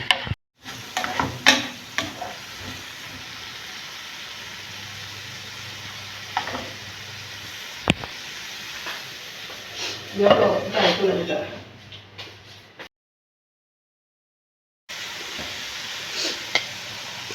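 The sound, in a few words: stirring carrots and green peas frying in a pan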